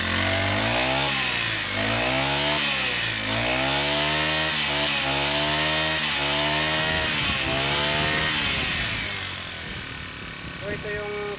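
A four-stroke brush cutter engine screams at full throttle, its pitch swinging up and down in repeated revs, loud and close before easing off toward the end, with a voice talking over it.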